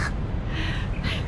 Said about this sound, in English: Mr. Crow, do you mind?